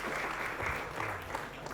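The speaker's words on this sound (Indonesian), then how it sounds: "Tepuk tangan untuk mereka berdua." Audience applause for two teachers who have just performed pantun verses at a school event, a steady, moderately loud patter of clapping from a crowd that runs without a break.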